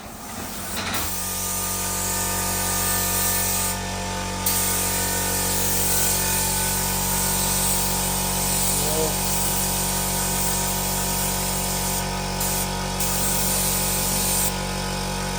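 A spray gun applies clear coat to a 52-year-old MGB car at home, a continuous close hiss with a steady mechanical hum beneath and a few brief pauses in spraying.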